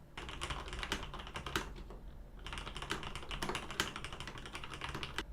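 Brisk typing on a G80-3000 custom mechanical keyboard built to look vintage, with rapid crisp clacks in two bursts split by a short pause, close and clear with no talking.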